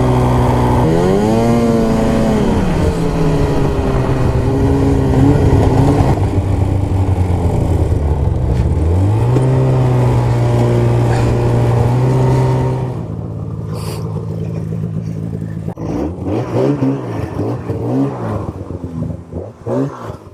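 A snowmobile engine runs loud and close through a ride, rising and falling in pitch as the throttle changes, then drops to a rougher, lower rumble that surges in uneven bursts toward the end. No one speaks.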